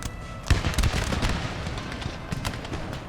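Artillery fire in a Napoleon: Total War battle, a sharp cannon boom followed by a few more rumbling shots and crackling reports that fade into a steady battlefield din, with no talking.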